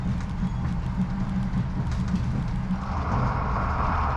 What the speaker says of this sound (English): the Afrosiyob presents a seriously rough ride at this speed, with the tracks and train not being suitable for the job